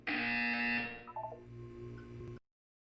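A loud electronic buzzer blares in the video game Portal 2, a harsh tonal drone lasting under a second before giving way to quieter mechanical tones and a short sequence of lower beeps, then cutting off into silence.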